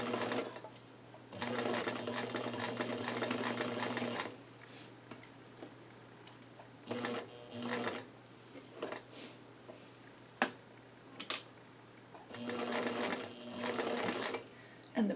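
A sewing machine fitted with a straight stitch presser foot runs in several bursts of fast, even stitching, close up, separated by pauses with small clicks and handling noises.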